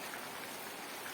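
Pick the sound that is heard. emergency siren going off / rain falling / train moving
rain falling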